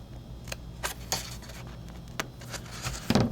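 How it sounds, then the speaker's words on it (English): Scissors snip angled cuts into the edge of a craft treat bag, giving several sharp, separate clicks spread unevenly across a quiet room with faint background hum. "I'm just going to cut little angles on this piece here and this piece here."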